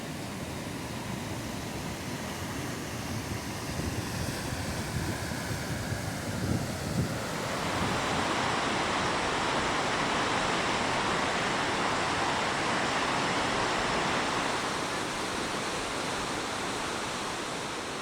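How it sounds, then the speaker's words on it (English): Ohiopyle Falls on the Youghiogheny River pours over a sandstone ledge into a gorge, a constant broad roar of water that swells noticeably louder partway through and stays dense and unbroken, with no voices. "Water pours over the sandstone ledge and funnels into the gorge below, creating a constant roar that echoes through the surrounding forest."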